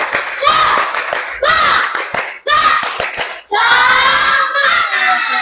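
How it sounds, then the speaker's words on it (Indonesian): An Indonesian school class does tepuk semangat, a rhythmic spirit clap, in several bursts of sharp, patterned claps. The bursts are punctuated by brief pauses, and children chant along between the beats. "biar gak ngantuk kita tepuk semangat dulu di jam terakhir ini"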